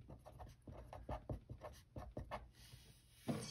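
Pen or pencil writing by hand on paper in quick, scratchy strokes, close and quiet, pausing briefly near the end.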